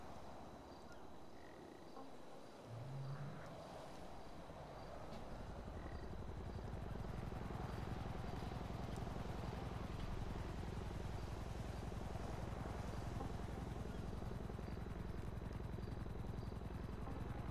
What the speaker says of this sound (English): we do have a helicopter that appears to be taking off at the helipads there